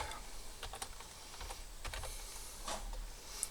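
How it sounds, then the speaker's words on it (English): Steady clatter of fingers typing code on a computer keyboard, with irregular rapid keystrokes and occasional louder taps, fairly quiet and close, no voices. "I'm just typing code out of the book right now."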